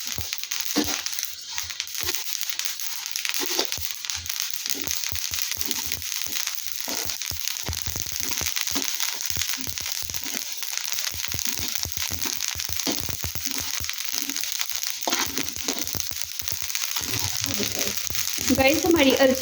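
Flax seeds dry roast in a pan for alsi pinni, giving a steady, dense crackling and rustling sizzle with frequent small pops, continuous and close, while a person speaks intermittently over it.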